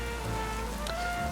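Rain weather in the Pokémon Legends Z-A video game, a soft, steady patter of falling rain beneath faint tonal game music, heard quietly and continuously.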